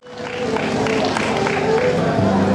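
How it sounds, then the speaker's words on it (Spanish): A live audience at an outdoor dance-band show applauds the orchestra with dense, steady clapping and crowd noise that swells quickly and holds, with voices mixed in. "Y si puede ser un aplausito para la orquesta."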